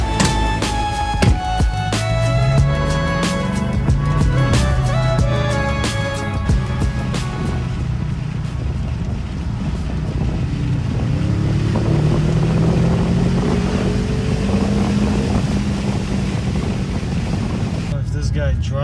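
A BMW M5 pulls away on the road, its engine note climbing in pitch through two long accelerations over a steady drone with rushing wind noise.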